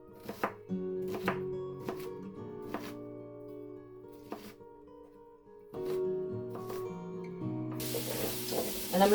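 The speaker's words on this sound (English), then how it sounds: "I'm going to dice an onion" A kitchen knife dices an onion on a cutting board in a string of crisp, separate chops over background music, ending in a burst of hissing sizzle.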